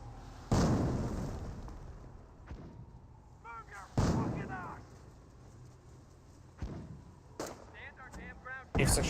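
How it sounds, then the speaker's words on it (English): Incendiary mortar barrage in Company of Heroes battlefield action: several loud, sharp blasts land a few seconds apart, each trailing into rumbling decay, with talk and intermittent combat noise between impacts. "It looks like it's just a regular mortar barrage, maybe. Oh, nope, it was incendiary mortar."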